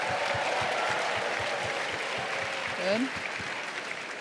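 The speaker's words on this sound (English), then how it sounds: "Can we please give her a round of applause?" Steady, dense applause from an audience at a university honors and scholars launch ceremony, filling the room evenly, with a brief spoken word near the end.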